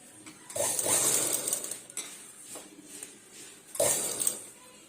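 A sewing machine stitches frills along a line, running in a steady close whirring burst, pausing, then running again briefly.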